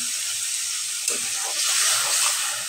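Potatoes, stems and a few beans stir-frying in spices give a steady close hiss of sizzling, briefly louder with a clatter as the pan is stirred.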